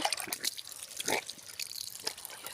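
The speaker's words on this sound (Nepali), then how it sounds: "फेरि म गोबर पानी लगाइरहेको छु अनि यसरी फिटाउँदैछु।" Watery cow dung being applied drips and splats in irregular wet taps, a few sharper drops among softer trickling, close and fairly quiet.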